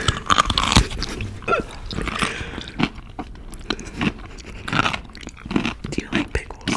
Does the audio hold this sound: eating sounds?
yes